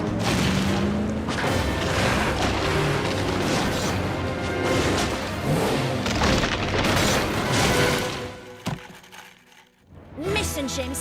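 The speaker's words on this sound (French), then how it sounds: "En s'emparant du trésor, Mason James a déclenché un éboulement." A cartoon rockslide in a cave: heavy booms, crashes and rumbling debris fill the scene with dense, loud impacts, then drop to a near-silent pause before more crashing, with a voice over the noise.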